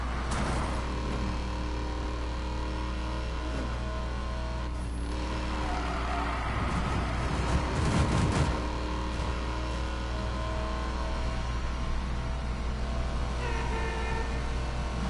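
Video game car with a 480 Hemi engine pulling hard in top gear, a steady loud engine drone holding throughout with a brief louder burst midway.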